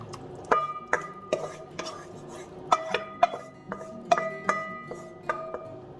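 Mushrooms stir-fried in oyster sauce in a pan, with a utensil clinking and scraping against the metal in irregular close knocks and rattles, with no talk.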